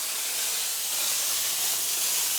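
A Labigo steam mop on max mode lets out a strong, continuous hiss of steam over a stove, loud and unbroken, with no talking.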